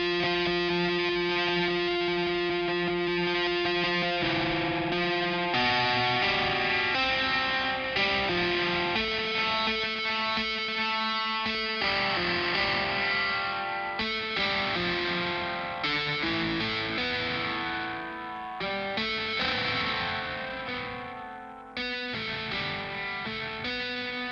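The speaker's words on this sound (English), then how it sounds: "This is just extra distortion if you want to bring it in here." Heavily distorted electric guitar played through the Grind Machine amp and cabinet simulator with its extra distortion stomp box engaged: thick, saturated chords ring continuously and loudly for over twenty seconds, with no voice over them.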